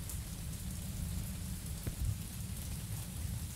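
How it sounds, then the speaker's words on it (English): Steady rain falls in the Mon Bazou video game, a dense, even hiss that runs throughout at moderate loudness, with one brief dull thump near the middle. "So you can hear the rain now, obviously."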